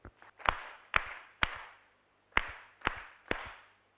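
An audience gives a ceremonial three-clap salute: two rounds of three sharp, evenly spaced claps, loud and crisp, with short gaps in between.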